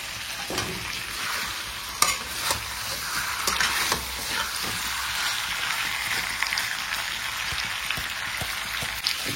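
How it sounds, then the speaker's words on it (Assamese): Chicken pieces fry in a pan on a raised gas flame for a curry, giving a steady, close sizzle broken by sharp scrapes and clatters from stirring, with no talking. "একদম ধুনীয়াকৈ 7-8 মিনিটমান ভাজি ল'লোঁ।"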